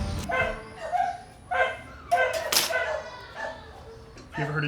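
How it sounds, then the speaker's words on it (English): Several dogs bark and yip in an irregular, overlapping chorus inside a van conversion workspace, loud and near, with a cooktop cut into a butcher block countertop nearby and voices mixed in. "You ever heard a dog's symphony before?"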